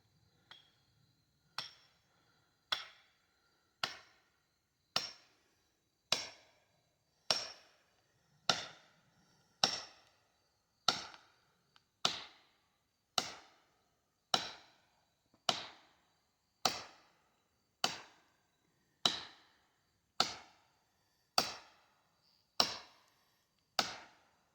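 A hammer strikes steadily while a large white oak tree is felled for firewood and lumber, with about twenty evenly spaced sharp knocks, clear and moderately distant, and almost no talk.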